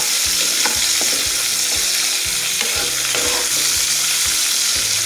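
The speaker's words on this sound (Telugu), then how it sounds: "వీటిని దీనిలోనే నూనెలో వేసుకోవాలి. తాలింపుతో పాటు వేయించుకుంటే" Dried prawns sizzling in hot oil with tempering spices for a tomato curry, a loud, continuous crackling fry with regular stirring scrapes and clinks of a utensil against the pan, no voices.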